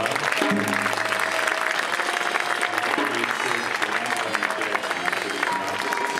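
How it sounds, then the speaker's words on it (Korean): Audience applause at a traditional Korean wedding ceremony, a steady, dense clapping from a crowd that holds evenly for several seconds, with faint music and murmuring voices beneath it. "네, 큰 박수 부탁드리겠습니다."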